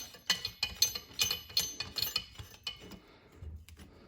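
A valve spring compressor being screwed down on the top of a valve during a 1997 Mustang Cobra engine rebuild, giving a run of dry metallic ratchet-like clicks in a steady rhythm, close and fairly quiet, with no talk.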